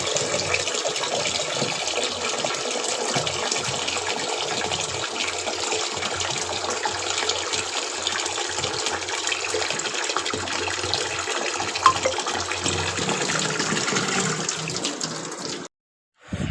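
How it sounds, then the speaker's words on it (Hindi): Water runs from a kitchen tap, filling a container as part of a morning routine at home, a steady loud rushing stream close by that carries on for the whole stretch before cutting off near the end. "पानी भरने के लिए।"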